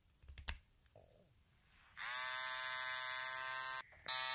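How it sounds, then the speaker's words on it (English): A Philips Nose Trimmer Series 300 switches on after a few soft clicks and handling taps, runs with a steady, high-pitched electric buzz, cuts out briefly, then starts buzzing again. "Twist the lower part of the trimmer to turn the trimmer on and off."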